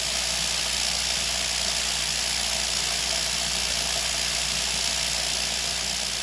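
A rust removal machine for restoring automotive hardware runs with a steady, moderately loud mechanical hum and faint vibration, continuous and unchanging throughout, with no voices.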